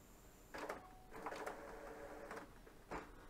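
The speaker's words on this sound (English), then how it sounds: "We are now going to turn our printer back on." A Canon G5050 inkjet printer powering up after being switched on, giving a few soft mechanical whirs and clunks from close by, quiet and brief, with no voices.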